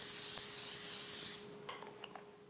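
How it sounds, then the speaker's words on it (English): Cooking spray hisses into a casserole dish in one steady burst of about a second and a half, close and fairly loud, then stops, leaving quiet kitchen clatter. "So I'm going to spray a casserole dish."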